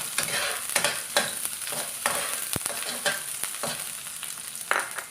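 Onion sizzles and fries in oil for pancit bato guisado, a bright steady crackle broken by repeated scraping strokes of a stirring utensil against the pan.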